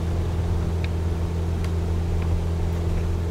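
An aircraft engine at full throttle during takeoff in Microsoft Flight Simulator 2020, a steady, close, humming drone holding even with a few faint clicks over it.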